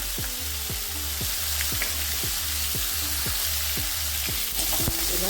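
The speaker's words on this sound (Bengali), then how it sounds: "লবণ হলুদটাকে আলুর সঙ্গে মিশিয়ে নেব" Potatoes frying in a pan as salt and turmeric are stirred in, a loud constant sizzle with rhythmic scraping strokes of the spatula repeating about twice a second.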